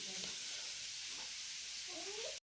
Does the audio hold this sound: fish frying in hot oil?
yes